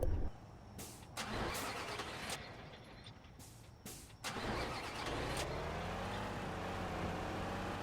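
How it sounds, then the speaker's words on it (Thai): A truck's engine in Truck Simulator Ultimate cranks and sputters repeatedly, failing to catch, with short bursts of starter noise broken by pauses before a longer whirring, rising crank drones on steadily. "เมื่อกี้ผมสตาร์ทรถไม่ติด"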